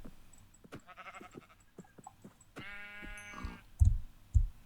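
Two short Minecraft sheep bleats, one brief and one longer and wavering, over faint clicking and soft background noise, with a couple of low thumps at the end.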